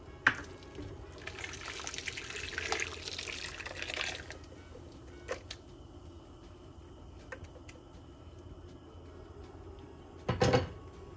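Blended pozole sauce is poured into a pot of simmering meat, a liquid gush for a few seconds, then quiet bubbling, a couple of knocks and a final clatter of the container.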